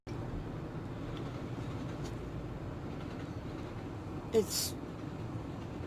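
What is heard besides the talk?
train passing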